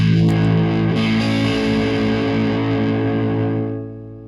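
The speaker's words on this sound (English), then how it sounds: "So that is a big, big part of his sound, kind of leaving his fuzz pedal on." An electric guitar played through a fuzz pedal rings out as a thick, distorted sustained chord that holds loud and steady, then fades away. There is no talking.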